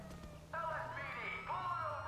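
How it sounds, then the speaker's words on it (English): A police car siren in a video game wails with rising and falling tones for a couple of seconds, fairly faint within the game's background sound. "Hey, is that the police car?"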